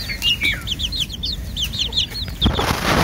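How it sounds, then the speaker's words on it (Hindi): Black desi chickens give rapid, high chirping clucks in a busy cluster, close and fairly loud over a low rumble of background noise. "ये ब्लैक ब्लैक ब्लैक मुर्गी है, ब्लैक मुर्गा है मेरे ख्याल से।"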